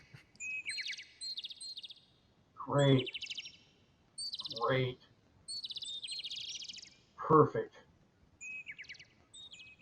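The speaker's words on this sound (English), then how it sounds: "Hear the birds singing." Birds chirp and sing outdoors at a camping spot in bright, repeated bursts of short tweets, while a voice speaks briefly in between.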